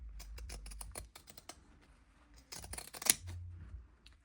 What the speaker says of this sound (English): And I'll trim the side seam